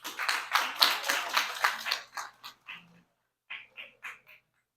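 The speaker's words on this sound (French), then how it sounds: "Mme Ulrika Richardson, sous vos applaudissements, s'il vous plaît." Audience applause at an intergenerational dialogue event. A dense burst of clapping thins out into a few scattered, fading claps before stopping.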